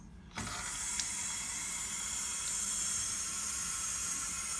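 Water runs from a faucet into a bathroom sink fitted with a universal pop-up stopper cap, a steady close hiss starting abruptly after a brief pause and continuing evenly.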